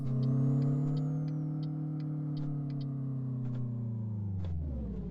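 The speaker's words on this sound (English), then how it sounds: "I'm not sure which engine noise I prefer in this truck" A Kenworth K100 truck engine in Euro Truck Simulator 2 idles with a deep, steady rumble that slowly drops in pitch, accompanied by faint regular ticking.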